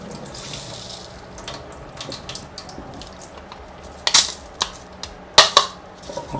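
Soaked mung beans are rinsed under running tap water in a kitchen sink and drained, a close rushing and splashing stream broken by several loud clattering knocks and rattles toward the end.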